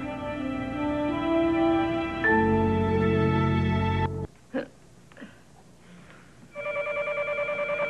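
A telephone in a French TV drama scene starts ringing near the end with a bright, pulsing electronic ring. It follows a passage of music and a few soft knocks and thuds.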